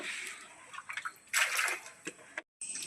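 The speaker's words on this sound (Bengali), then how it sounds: "পেয়ারাগুলো আর একবার জল দিয়ে ধুয়ে নেওয়া হচ্ছে" Guavas are rinsed in water at night in a village, with irregular splashes and sloshing bursts, one louder surge of splashing, then a brief silence before the washing resumes.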